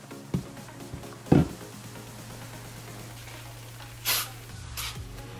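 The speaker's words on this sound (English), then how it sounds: "I'm just gonna spray it all over the bottle, just making sure I get every area." Spot Shot cleaner sprayed from an aerosol can onto a bottle over a towel on a counter: a few short, sharp hissing bursts, close, with gaps between them over a low steady hum.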